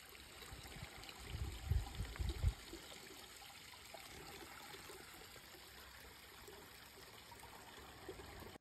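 A creek on a nature trail in a nature reserve flows with a steady, faint trickling murmur. Some low rumbling thumps come up close in the first few seconds and then the water carries on alone.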